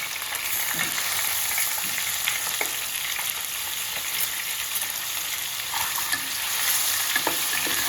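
Eggs fry in a pan with a soft, steady sizzle and faint crackle, close by and fairly quiet throughout, with no talk.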